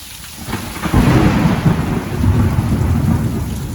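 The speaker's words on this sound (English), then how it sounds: "We need the rain." Heavy rain pours during a thunderstorm while low thunder rumbles and swells through the downpour, loud and continuous, with no voices.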